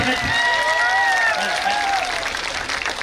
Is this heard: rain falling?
no